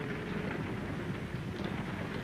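A thunderstorm in an old western film: steady, dense rain hisses loudly with a low rumble beneath, continuous and without pauses.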